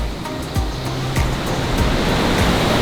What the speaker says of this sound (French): parce que Snoopy, il a peur du bruit des chutes, c'est trop fort